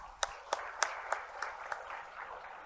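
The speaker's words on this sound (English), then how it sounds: "How about a round of applause for Julia?" At a football business conference, a small audience claps in sparse, evenly spaced strokes. About six sharp claps stand out and fade into a softer scattered patter, fairly quiet and somewhat distant.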